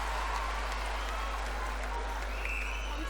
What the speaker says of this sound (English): the crowd has given her a little bit of a cheer for that